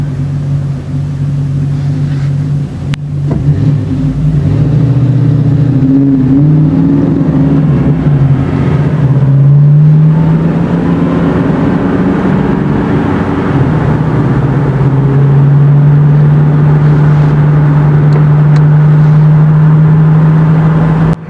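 A Ford Fox-body Mustang with the 5.0 V8 runs loud and close for about twenty seconds, its engine note rising and falling through several revs before holding a steady, throaty idle-to-rev drone.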